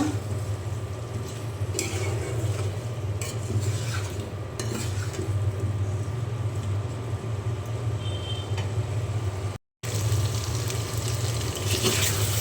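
Shrimp and taro (mankochu) being stir-fried with spices in a pot, giving a steady, continuous sizzle with frequent scraping and clinking of a spoon against the pan, close and alone, with one brief dropout near the end.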